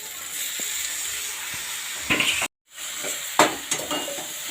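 Spices such as chili powder and Malabar spinach seeds fry with vegetables in a hot pan, a continuous close sizzle broken by a brief silence and occasional spatula knocks and stirring scrapes; no speech.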